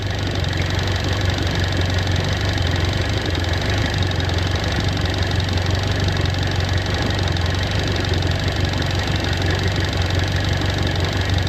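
A Mercury 115 HP four-stroke outboard engine runs at a steady idle, a continuous close mechanical hum and knock with no change in pace across the whole stretch.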